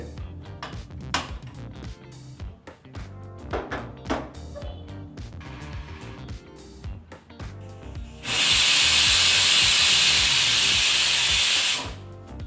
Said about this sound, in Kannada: ಈಗ ಕುಕ್ಕರ್ 1 ವಿಸಲ್ ಬಂದಾಯಿತು.